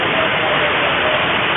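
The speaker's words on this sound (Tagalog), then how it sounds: "Masyadong malakas ng ulan." Heavy rain pouring, a dense, constant broadband hiss that stays loud and even throughout with no breaks.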